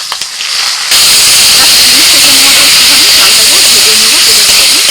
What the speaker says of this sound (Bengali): কড়াইতে সাদা তেল দিয়ে দিয়েছিলাম ওই দু চামচ মতো সাদা তেল ওর মধ্যে চাল দিয়ে দিচ্ছি